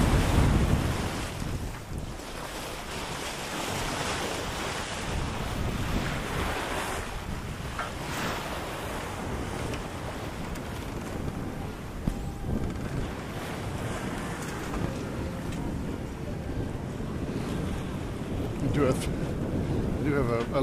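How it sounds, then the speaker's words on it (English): Wind and waves rush past a sailboat moving fast off Isola di Ponza, Italy, a loud, continuous broadband roar of gusts buffeting the microphone and surf hissing along the hull. "nice wind now."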